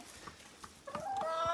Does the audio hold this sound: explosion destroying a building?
no